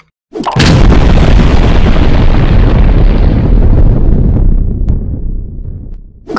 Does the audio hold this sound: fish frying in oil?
no